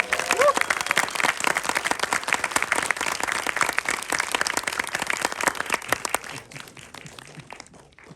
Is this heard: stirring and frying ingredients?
no